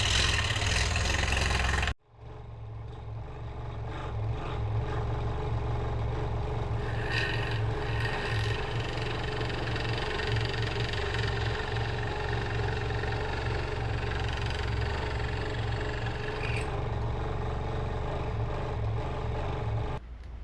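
A power saw cuts a wooden art cutout, giving a loud, steady grinding drone that runs unbroken for about eighteen seconds after a brief different burst at the start.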